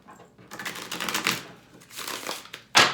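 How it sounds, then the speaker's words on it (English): A deck of tarot cards is shuffled close by in several quick riffling bursts with short pauses between them, ending in one sharp, loud riffle. "Give me one more shuffle."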